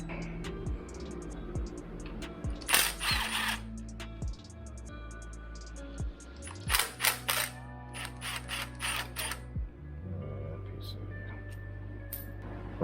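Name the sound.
removing engine timing tensioner with hand tools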